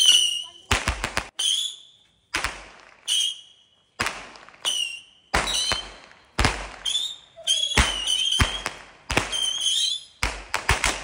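Diwali firework rockets and firecrackers going off in a series of sharp, loud bangs and whistling bursts, separated by short silences, with a few voices in between.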